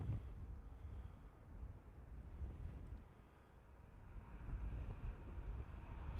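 Wind buffets a microphone at an airport plane-spotting spot, a steady low roaring rumble that swells and eases over several seconds, with no talking.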